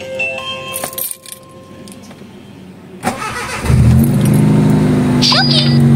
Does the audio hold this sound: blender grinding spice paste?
no